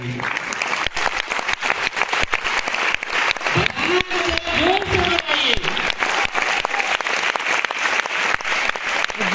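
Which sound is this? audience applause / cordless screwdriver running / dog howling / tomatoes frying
audience applause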